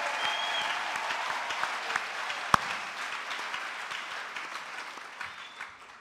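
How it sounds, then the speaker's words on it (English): A church congregation applauds the choir's singing with steady, sustained clapping that gradually fades toward the end, with a brief crowd murmur underneath. "We clap again for the singing."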